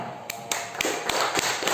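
A fifth-grade primary school class claps together in a rhythmic, patterned way: a steady run of about seven sharp, evenly spaced claps, moderately loud and close, with no talking over them.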